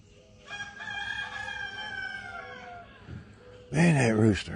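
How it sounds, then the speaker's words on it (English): A rooster crows in a drawn-out call at moderate distance, then a louder, closer crow at the end, with a person talking quietly over the outdoor sunrise scene. "Man, that rooster."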